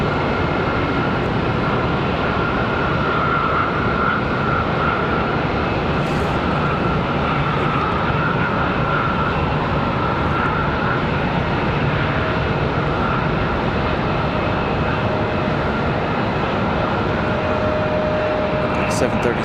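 An airliner departing from Charlotte Douglas airport, a continuous loud engine roar with a steady tonal whine, sustained across the whole stretch, while a person talks over it.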